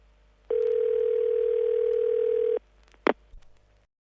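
A steady telephone dial tone holds for about two seconds, loud and alone, then cuts off, followed by a short click and brief button or handset noises as a parent rings the kids.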